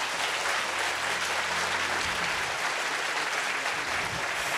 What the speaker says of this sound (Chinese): 请11组得奖者先站起来接受大家的掌声